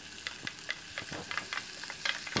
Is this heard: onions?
yes